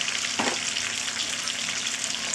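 Bitter gourd pieces fry in hot oil with a dense, even sizzle and one short stirring scrape near the start.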